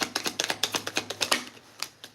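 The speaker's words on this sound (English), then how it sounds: "Let's shuffle through this half one more time." Tarot cards are shuffled by hand in a quick run of crisp riffling snaps and soft slaps, close up, trailing off into a few final taps with no talk.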